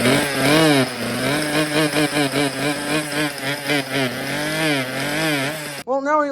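A Poulan Wild Thing chainsaw runs close and loud with a buzzing two-stroke whine, its revs rising and falling in repeated surges before cutting off. It briefly restarts at the end.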